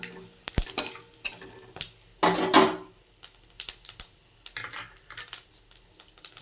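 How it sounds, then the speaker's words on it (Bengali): Whole garam masala, dry chillies, bay leaf and cumin dropped into hot oil, a short burst of sizzling and crackle amid spoon scrapes and clinks against the pan, close by. "ফোড়নে দিচ্ছি গোটা গরম মশলা, শুকনো লঙ্কা, তেজপাতা আর জিরে ফোড়নে দিচ্ছি আমরা।"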